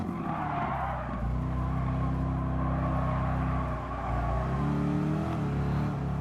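Race car in the Gran Turismo video game, a high-horsepower machine: a steady, loud engine drone runs throughout, with tyre skidding and squealing layered over it.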